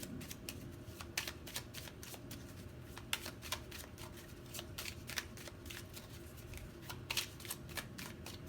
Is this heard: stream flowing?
no